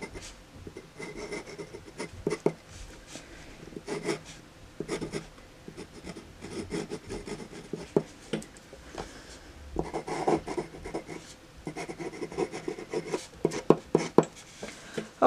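A Dollar Tree glass dip pen scribbles on paper in close, dry scratchy strokes that come in irregular bursts with brief pauses between them.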